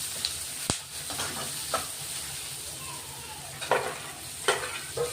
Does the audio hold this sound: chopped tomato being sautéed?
yes